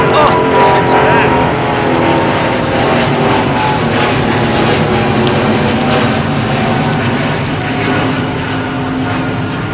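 Big jet engines roar at London Heathrow Airport under a low cloud base, with an XWB-engined airliner among them: a loud, continuous, rumbling wash of thrust that holds steady throughout and stays close and powerful.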